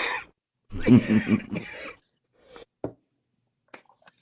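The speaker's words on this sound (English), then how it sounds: "he's having a coughing attack" A person coughs and clears the throat in a harsh burst, followed by a few fainter coughs and small sounds amid silence, close by.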